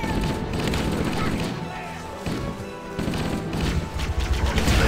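Dense, continuous gunfire crackles through a Marine combat video game, a busy wash of overlapping shots and battle noise with intermittent bursts louder toward the end.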